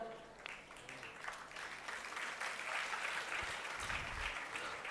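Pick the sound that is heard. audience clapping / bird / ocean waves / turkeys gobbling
audience clapping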